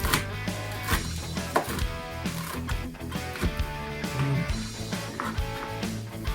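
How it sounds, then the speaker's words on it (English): Knife chopping three strips of crispy cooked bacon on a cutting board, a run of close, fairly loud, irregular chops and taps with no talk. "here on the cutting board, I've got 3 strips of bacon ready to get cut up, cooked very crispy"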